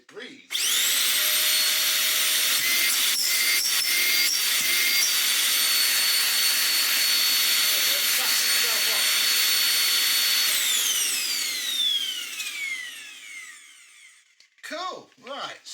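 A Dyson UP22 upright vacuum cleaner, clogged with twigs, runs with a loud, steady high-pitched whine and airflow roar, then winds down, followed by brief talking.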